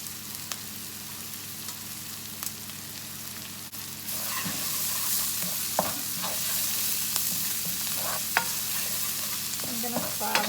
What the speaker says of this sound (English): I'm going to fry those up too